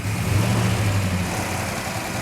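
A 1967 Hemi GTX convertible's engine idles steadily and loud up close, a low rumbling drone with the busy ticking rattle of mechanical rockers on top, no voices.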